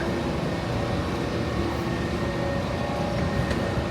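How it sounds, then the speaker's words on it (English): A train in a Washington, DC station gives a loud, steady rumbling roar that fills the moment without a break, with no voices over it. "I think my train just arrived."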